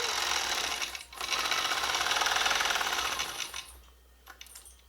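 A longarm quilting machine stitches quilt rows with a rapid, even mechanical chatter up close, pausing briefly once, then tapering to lighter clicks near the end.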